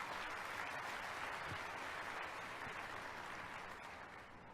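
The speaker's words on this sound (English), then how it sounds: "I think that deserves a round of applause" Audience applause at a cruise ship naming ceremony in Port Miami, a dense, even wash of many hands clapping at a distance that slowly tapers off.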